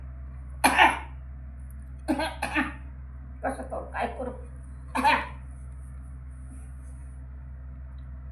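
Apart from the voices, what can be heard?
elderly woman coughing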